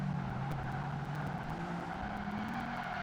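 A TVR race car in Project Gotham Racing 2, its engine holding a steady droning note that wavers slightly in pitch, moderately loud and continuous with no talk.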